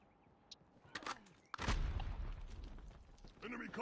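Gunfire in Call of Duty comes as a few faint snaps, then one heavy burst that rolls into a low, rumbling tail, with voices in the background.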